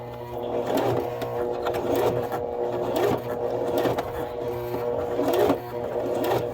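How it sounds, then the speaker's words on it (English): A sewing machine stitches through thick suede with a steady motor whir and dense mechanical rattle, running continuously at close range with slight strain as it pushes through the tough material. "It is, I have to really help the sewing machine."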